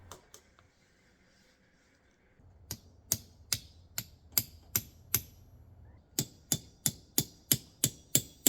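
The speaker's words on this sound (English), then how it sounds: "I put in place 2 rapid rivets with a strip of leather in between them" Rapid rivets hammered through a leather strip on a distressed felt biker cap: a quick run of sharp, evenly spaced taps, about fourteen strikes split by a short pause, close and clear with no talking.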